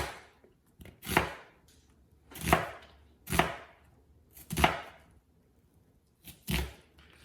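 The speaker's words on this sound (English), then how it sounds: "go ahead and just make some little onion slices" A sharp knife cuts an onion into small slices on a board for a grilled cheese, giving five distinct, crisp chops at an irregular pace with quiet pauses between them.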